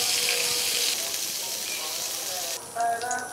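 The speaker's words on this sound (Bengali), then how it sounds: "এবার চিংড়ি মাছ ভেজে নেব" Prawns fry in oil in a pan, giving a loud, continuous hiss and sizzle that shifts in intensity partway through, with a brief flare near the end.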